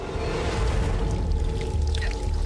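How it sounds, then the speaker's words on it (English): Gasoline gushing from the ruptured fuel tanks of a crashed small plane, a continuous rushing, splashing pour with a steady low rumble throughout, fairly loud and close, with no voices. "Gasoline was uh, just pouring out"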